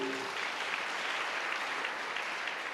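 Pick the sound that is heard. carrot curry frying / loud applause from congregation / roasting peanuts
loud applause from congregation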